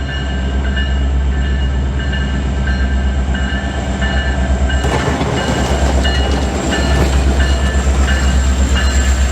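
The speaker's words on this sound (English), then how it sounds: "but that train's about to hit that corner" A train rolls along the rails with a loud, close, continuous rumble and rhythmic wheel clatter. Near the end it grows harsher and grittier, and no one speaks.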